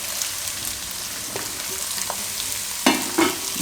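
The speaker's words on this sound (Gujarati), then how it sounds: "તો થોડીક વાર એને ફેરવીને પછી આપણે કેપ્સિકમ નાખી દઉં હમણાં" Manchurian made from leftover chapati is stirred in a frying pan, giving a steady close sizzle with a couple of sharper spatula scrapes near the end and no talking.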